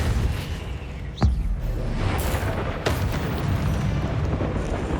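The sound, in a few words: Depulso spell cast in Hogwarts Legacy video game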